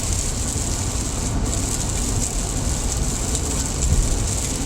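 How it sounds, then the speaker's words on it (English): Car tires hissing through standing rainwater on a highway, a steady dense wash of spray and rain noise that stays constant and fairly loud throughout, with no distinct passes standing out. "It's just because the cars kicking up the water on the highway."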